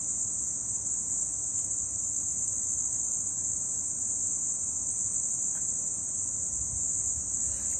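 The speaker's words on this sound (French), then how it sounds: "Voilà le grillon." A cricket in Cameroon sings with a loud, continuous high-pitched trill, held steadily and close up for several seconds against a faint outdoor background, with no voices.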